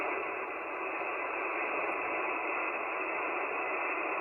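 Radio static hiss from an ICOM 705 transceiver tuned off 7.1 MHz, a steady, even band of noise holding at constant level for a few seconds with no voices.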